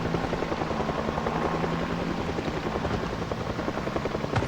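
Helicopter flying overhead in the survival video game Project Zomboid, a steady, loud rotor thrum with rapid blade chop sustained throughout, close and unbroken, with no talking.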